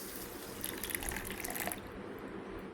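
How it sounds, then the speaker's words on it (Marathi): Water pours steadily from a container into a bowl of soaked sabja seeds for sharbat, a close, continuous splashing trickle that stops abruptly near the end. "आता त्यामध्ये आपण पाणी ओतूया।"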